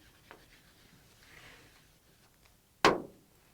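Chalk or marker strokes on a board during a basic calculus lesson: faint, soft scratching in short bursts, then one sharp, loud tap near the end, with no talk.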